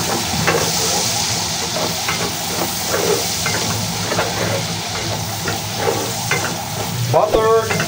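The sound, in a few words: onion frying and being stirred in pan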